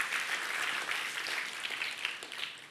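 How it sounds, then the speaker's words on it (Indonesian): A church congregation applauds during a sermon, giving a steady, dense wash of clapping that holds evenly from start to finish without any voices. "Berikan tepuk tangan buat Tuhan Yesus"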